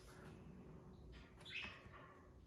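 Birds chirping faintly in the background around a houseplant collection, a few scattered short tweets and calls over a quiet room hum.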